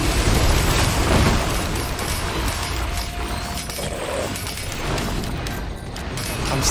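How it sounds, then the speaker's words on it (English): Dense, roaring rumble of fireworks exploding in a video game, continuous loud booming and crackling that swells at the start and stays heavy throughout, with no clear talking. "From my fireworks"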